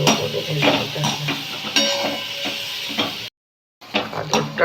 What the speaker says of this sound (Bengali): গাজরটাকে ভালো করে ভেজে নিতে হবে।